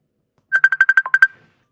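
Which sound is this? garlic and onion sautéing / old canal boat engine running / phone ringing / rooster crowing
phone ringing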